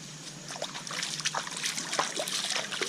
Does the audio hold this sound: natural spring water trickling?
yes